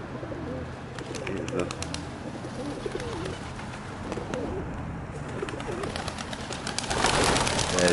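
Pigeons coo steadily at St Thomas Church in Ryde, a busy, close flock over outdoor noise. A voice is heard faintly, and a louder rustle, like wingbeats, comes near the end.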